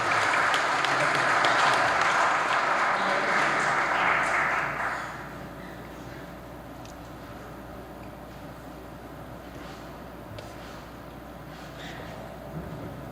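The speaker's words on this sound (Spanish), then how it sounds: "Un fuerte aplauso, por favor." Audience at a legal conference gives strong, dense applause for about five seconds, then it drops to a softer, lingering patter under the room's background hum.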